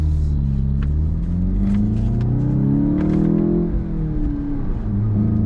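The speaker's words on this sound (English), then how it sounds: "you might be able to hear a few little gurgles and pops happening behind me" A 2022 VW Golf with a 2-liter EA888 turbo engine idles and revs with a deep, loud rumbling exhaust, the pitch rising and falling, with faint crackling pops scattered over the top.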